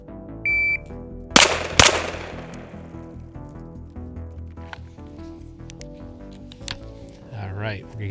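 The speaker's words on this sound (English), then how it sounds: "We're gonna put 2 rounds on the beep into the left head box." Night-vision pistol drill: a short electronic shot-timer beep, then two sharp, loud pistol shots in quick succession, with ringing decay and faint background noise afterward.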